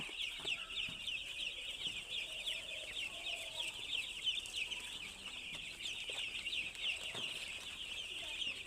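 A flock of five-day-old poultry chicks on a farm, producing a dense, continuous chorus of high-pitched peeping that stays steady and fairly quiet throughout, with no talk.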